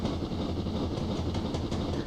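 A BR Black 5 steam locomotive in Train Simulator runs along the Western Lines of Scotland, with a steady rumble and rhythmic clickety-clack of wheels on rail joints throughout, with no voices.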